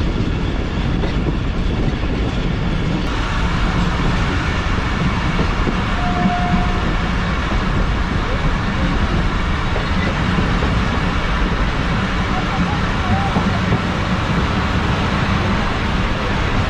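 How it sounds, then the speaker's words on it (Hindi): A Rehman Baba Express train pulling out of Hyderabad Junction's down platform, with a steady, loud rolling rumble and rail noise throughout and no talking. "ट्रेन हमारी पूरे 4:10 पर मूव होना शुरू हो चुकी है हैदराबाद जंक्शन से डाउन प्लेटफॉर्म"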